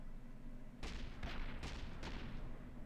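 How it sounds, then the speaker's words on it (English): A gatling gun in the space game Cosmoteer fires one burst of about four rapid heavy shots, each a booming thud with a short tail, after a quiet lead-in. "It fires bursts of only 4 rounds before it stops shooting."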